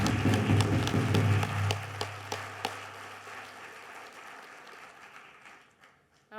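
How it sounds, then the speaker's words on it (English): Audience applause at an awards reception and ceremony, a dense burst of clapping that thins out into scattered individual claps and fades away. "Another round of applause."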